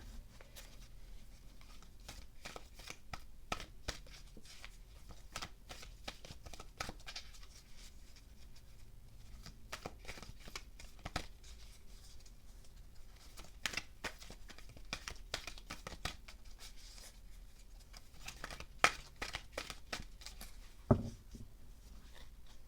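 Oracle cards being shuffled by hand in a quiet room, a long run of soft, rapid riffling and tapping clicks that comes close and stays steady, with a couple of sharper knocks near the end.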